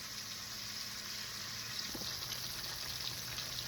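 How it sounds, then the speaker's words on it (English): Pork chops fry in a pan for fried pork chop sandwiches, making a faint, steady hiss of sizzling fat with a soft pop or two and no voices over it. "So can you hear them pork chops cooking?"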